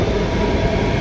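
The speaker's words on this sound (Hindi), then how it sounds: "आ गई मेट्रो" Delhi metro train arriving at Rajiv Chowk station, a loud, steady rumble and rail roar filling the whole moment close by, with no talk heard.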